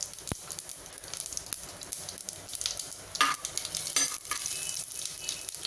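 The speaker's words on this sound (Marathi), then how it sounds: "तेल आपलं छान तापलं आहे, आपण मोहरी घालून घेऊया। मोहरी तडतडायला लागल्यावर गॅस कमी करायचा आहे।" Mustard and cumin seeds crackle and sizzle in hot oil for a green moong dal khichdi, a soft steady frying hiss dotted with quick popping spatters and a few louder crackles.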